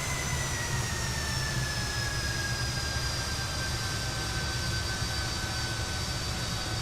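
Fokker F28 jet engines idling while the airliner taxis in a flight simulator game, a steady, moderately quiet whine with high sustained tones over a low droning rumble, unchanging and free of talk.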